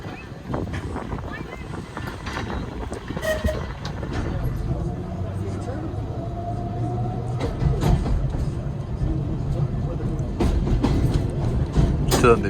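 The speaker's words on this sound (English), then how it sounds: "we're now going on our second trip on the tramway" A large model tram runs along the Seaton Tramway, a steady rolling rumble with intermittent clanks and a brief tonal squeal, heard near and continuous with wind buffeting the microphone.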